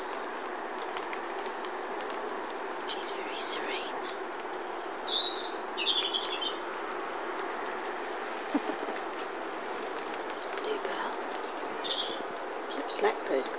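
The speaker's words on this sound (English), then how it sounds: "Blackbird, gorgeous." A blackbird sings outdoors in short, bright phrases scattered through the clip, fairly faint over a steady low background rumble that may be a passing train, with occasional louder chirps near the end.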